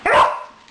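A single sharp bark from a Border Collie herding a Wire Fox Terrier, close and loud, tailing off quickly, with no talking over it.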